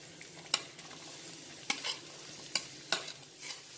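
Onion and green chili fry over medium heat with cinnamon, cloves and cardamom, making a quiet sizzle broken by several sharp spoon-on-pan clacks from stirring.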